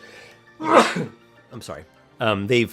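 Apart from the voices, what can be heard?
sneeze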